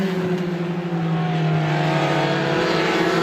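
Race cars roar around the track at Star Speedway during a Roadrunner feature, a loud sustained engine drone with rising and falling harmonic pitch as cars circle nearby, with no voices heard.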